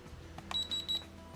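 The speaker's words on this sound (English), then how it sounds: "You hear one beep, that's in speed number 1" A toy drone's remote controller gives a single short electronic beep to mark its first speed setting, a bright tone repeated in quick pulses, close and clear over quiet background hum.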